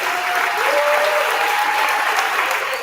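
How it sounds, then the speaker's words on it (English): Audience at an elementary school fifth grade promotion ceremony giving loud, continuous applause, a thick even wall of clapping across the whole stretch. "Round of applause to them."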